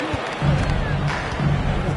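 A basketball video game arena crowd roars after a player's dunk, a steady dense wash of cheering and crowd noise that swells and holds throughout, with a commentator talking over it.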